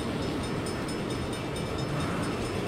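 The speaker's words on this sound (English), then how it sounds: "Hell of a time for a train." A train rumbles past in the Saints Row video game, a steady, loud, low mechanical roar that fills the whole stretch without a break.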